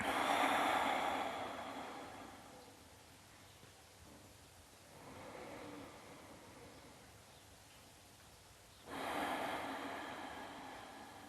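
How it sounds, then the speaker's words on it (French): Slow, deep breaths during a gentle vinyasa yoga session, three soft airy swells of inhaling and exhaling spaced a few seconds apart, faint and close with no talk. "on prend un petit temps pour respirer"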